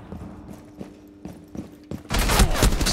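Video game gunfire: several spaced sharp shots in irregular rhythm, then a loud sustained burst of rapid automatic fire to the end.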